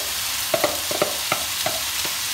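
Halved boletus mushrooms sizzle and crackle in a frying pan, with a sparse run of sharp pops and ticks over a soft, steady hiss; close and fairly quiet, with no talking.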